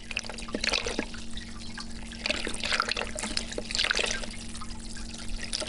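A recording of flowing water processed with a diffusing effect, giving a steady smeared wash of trickling and dripping texture with brighter splashy swells, continuous and moderately loud.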